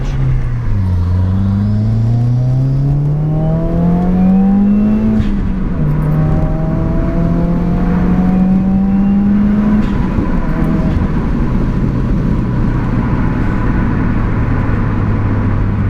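A Stage 3 Subaru WRX running E85 accelerates hard from inside the car, its loud engine tone climbing through the gears with clear shift dips. A long sustained pull ends in a lower cruising drone, and nobody speaks.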